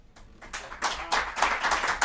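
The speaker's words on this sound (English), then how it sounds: "Let's just hear the applause sounds." Applause sound effect played back during a studio mix session, a burst of many hands clapping that swells in quickly from near silence and stays loud and dense.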